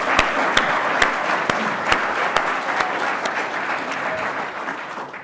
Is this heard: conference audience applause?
yes